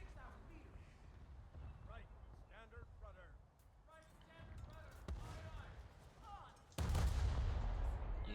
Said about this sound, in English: we're able to send a salvo at that destroyer